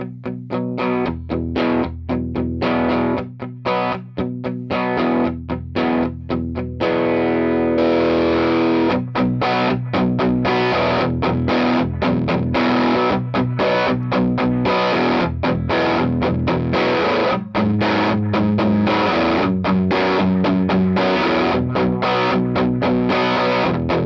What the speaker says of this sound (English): I'll back off on the distortion a little bit and bring up the level a touch